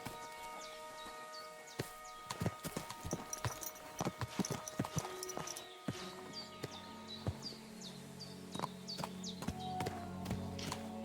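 Horse hooves clip-clop steadily on hard ground in the video game Kingdom Come: Deliverance II, a rhythmic clatter of hoofbeats heard close, with background ambience and occasional faint bird chirps, no speech.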